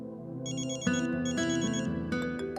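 A melodic phone ringtone plays clearly, a repeating electronic tune with bright tonal notes, loud and close, no talking.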